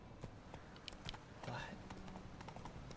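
Geralt's horse Roach gallops in The Witcher 3: Wild Hunt, with a steady run of hoofbeats under continuous talk and game sound.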